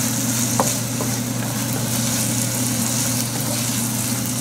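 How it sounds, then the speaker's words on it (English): Chopped potato, the scooped-out insides of potatoes, sizzles in a hot pan, a steady, loud, close frying hiss with faint stirring scrapes and no talking. "So to this I want to add the chopped potatoes."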